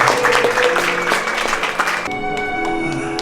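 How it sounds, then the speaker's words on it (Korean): Wedding guests applauding in a hall, a busy spread of clapping that gives way partway through to a held musical backing. "박수로 축하해 주시기 바랍니다"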